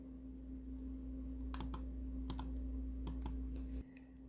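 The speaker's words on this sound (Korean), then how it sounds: "Alt키 누르고 딜리트키 누르면 색상이 채워지죠" Several crisp computer keyboard key presses in quick pairs, quiet and close, over a steady electrical hum while an image is being recolored in Photoshop.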